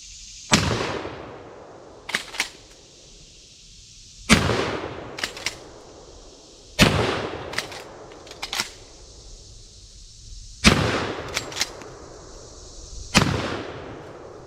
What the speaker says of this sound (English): That's just a fantastic shooting gun